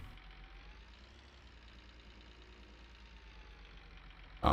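A tractor engine idles in Farming Simulator 19 as a steady, quiet low rumble running throughout, with a sudden loud burst at the very end.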